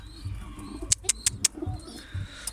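Soft pigeon coos and faint bird sounds, with a few sharp clicks and light background noise.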